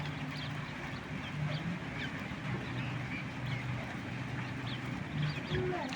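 A group of king quail kept as a breeding flock call softly and repeatedly, their short chirps and clucks fairly faint over a steady background murmur, with no speech.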